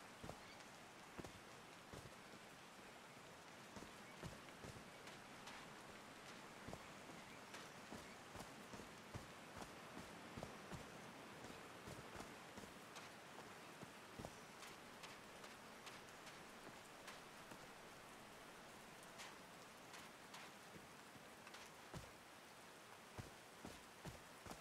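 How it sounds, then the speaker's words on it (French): Rain falling in Call of the Sea, a faint, steady patter of drops with scattered sharper taps on a surface throughout, with no voices. "These drops of rain are so refreshing."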